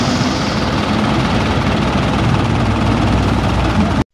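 Isuzu 4HL-1 truck diesel engine idling smoothly after a misfire fault was fixed, a loud, steady, close rumble with even low-end throb that cuts off abruptly at the end.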